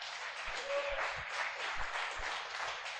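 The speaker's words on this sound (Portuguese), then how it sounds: "Aplauda ao Senhor." A church congregation applauds with steady, continuous clapping that forms an even wash of sound throughout, with no single claps standing out.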